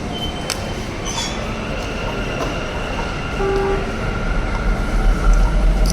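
Interior of a moving Bangalore metro train, a steady loud rumble of wheels on track with faint squeals and tonal hums, growing slightly louder near the end, with no voices.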